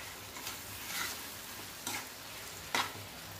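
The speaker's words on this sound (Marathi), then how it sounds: "आता ही भेंडी टाकून घ्यायचं आपण ग्रेव्हीमध्ये. गॅस कमी करून घ्यायचा आणि छानपैकी मिक्स करून घेऊया." Fried okra stirred into gravy in a pan over a low flame: a soft sizzle runs underneath, broken by a few scraping stir strokes, all fairly quiet, with no talking.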